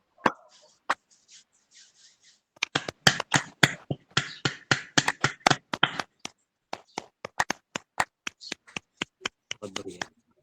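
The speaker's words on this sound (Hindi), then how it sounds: "और तालियां बजा लें सभी जनों के लिए" A group at a yoga session claps hands together, sharp percussive claps that begin scattered and then fall into a quick, fairly steady run, with a voice talking between them.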